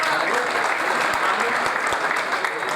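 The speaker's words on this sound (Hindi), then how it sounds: "तालियां जोर से बजाएं काइंडली" A stage show audience in Gujranwala claps steadily for a guest invited up, a dense continuous round of applause throughout with a few sharper claps standing out.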